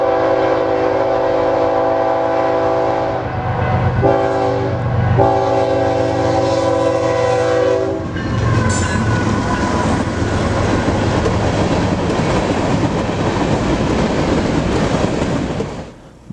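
A BNSF grain train hauling covered hoppers rolls past in Galesburg, Illinois, loud and close, with a long sustained horn blast giving way to a steady rumble and clatter of wheels over rail joints.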